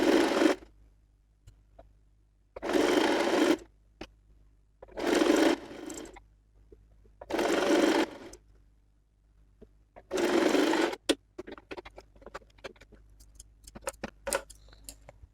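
Sewing machine stitching a high-neck collar blouse in five separate bursts of about a second each, with quiet gaps and small handling clicks between them, heard alone.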